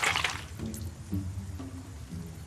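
Water splashes and trickles through the holes of a skull in a point-and-click treasure-hunting game, a brief pour at first, then softer dripping and dribbling with no talking.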